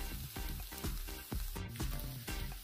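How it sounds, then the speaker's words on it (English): A vegan breakfast scramble of vegetables and lentil seitan with spices and nutritional yeast is stirred in a pan, giving a continuous sizzle with repeated rhythmic scraping strokes, close and fairly loud. "all the spices and nutritional yeast has been added, so now I just have to stir it around"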